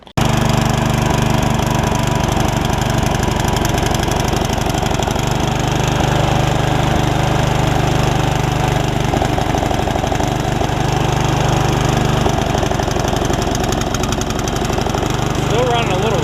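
Yard Machines riding mower with a water-flooded engine, running a little rich, gives a loud, continuous close-up drone with a low throbbing rumble that holds steady for the whole stretch.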